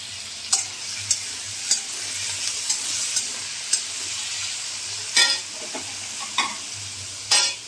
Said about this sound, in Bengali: এখন আমি আগে পেঁয়াজটা আর কাঁচা লঙ্কাটা দিয়ে দেব, দিয়ে ভাজা ভাজা করব।